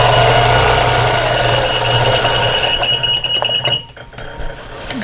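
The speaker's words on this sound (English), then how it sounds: "My machine's letting me know my bobbin is low." A quilting sewing machine sounds a loud, continuous electronic beeping alert for a low bobbin over its motor hum, stopping near the end, leaving quieter mechanical clicks.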